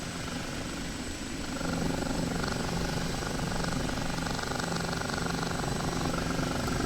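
An OH-58D Kiowa helicopter flies in the DCS combat flight simulator, its steady rotor thump and turbine whine droning continuously and close, swelling slightly louder partway through.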